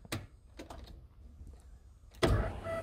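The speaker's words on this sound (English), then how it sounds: "listen to that fuel pump prime and the relay click" Nissan S15 Silvia with a Walbro 460 fuel pump: a few faint relay clicks, then the pump primes with a sudden, steady electric whine and buzz that runs to the end, close and fairly loud.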